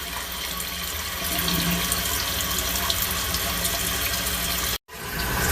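Water rushes steadily into a refilling toilet tank in an upstairs bathroom, a constant loud hiss and gurgle, cut off by a brief silence near the end before it resumes.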